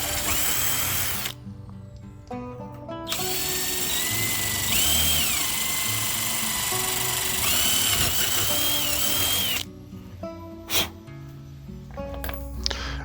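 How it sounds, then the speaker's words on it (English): A power drill with a 16-inch bit whines loudly in several long bursts, pitch rising as it bites through a metal scaffold frame, with short pauses and clicks between holes. "Just drill through each hole."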